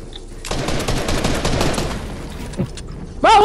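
Gunfire in the game Fortnite crackles in a rapid, dense burst for about two seconds, then thins to a few scattered shots before a brief voice cuts in at the end.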